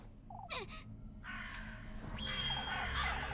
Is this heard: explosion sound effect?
no